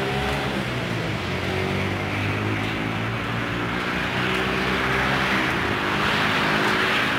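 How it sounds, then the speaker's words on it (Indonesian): Vehicles pass along a road nearby, producing a loud, continuous engine drone with layered humming tones and a steady whoosh of traffic, and no voices. "kita bisa menghitung jalur atau kendaraan yang melintasi jalur ini"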